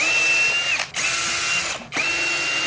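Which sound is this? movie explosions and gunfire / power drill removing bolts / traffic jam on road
power drill removing bolts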